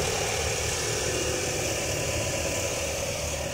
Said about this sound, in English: You can hear the engine running just fine.